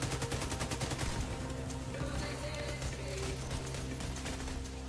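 Continuous rapid machine-gun fire from the Bullet Queen light machine gun in The Division 2 shooter game pours out densely and loudly, with no break or reload across the stretch.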